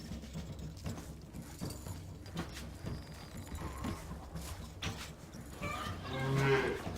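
Cattle moo repeatedly in Stronghold, several lowing calls over a backdrop of castle activity and faint mechanical clatter, with a louder moo near the end.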